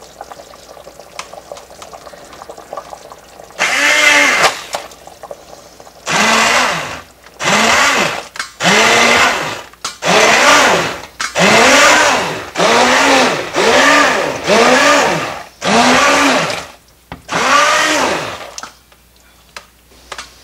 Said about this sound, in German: dann legen wir los mit dem Zauberstab, also mit dem Stabmixer. Und dann wird das Ganze erstmal püriert.